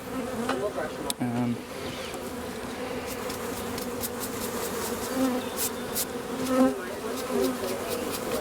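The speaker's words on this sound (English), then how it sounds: "The bees love being brushed." A steady, droning buzz of bees being brushed hovers close by, with a few louder passes and brief clicks and bumps scattered through.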